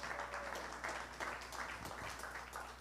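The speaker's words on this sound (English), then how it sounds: "Give her another big round of applause" Faint applause from an audience at a Caribbean media awards ceremony, a scattered, steady patter of clapping lasting a few seconds, distant and soft.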